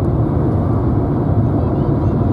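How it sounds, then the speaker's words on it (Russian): Interior of a moving Skoda Rapid carsharing car on the road to Peterhof: a steady, loud low rumble of engine and road noise fills the cabin without a break. "Мы едем в Петергоф на каршеринге, ход Шкода Рапид, хотел сказать Хонда Рапид, Шкода Рапид."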